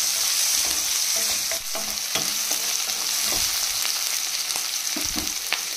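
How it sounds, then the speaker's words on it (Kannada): Onion and curry leaves hitting hot oil in a kadai, a loud steady sizzle with scraping stirring strokes throughout, close up and without talk. "ಇವಾಗ ಎಣ್ಣೆ ಬಿಸಿ ಆದಮೇಲೆ ಈರುಳ್ಳಿ ಮತ್ತು ಕರಿಬೇವಿನ ಸೊಪ್ಪು ಹಾಕ್ಕೊಳ್ತಾ ಇದ್ದೀನಿ"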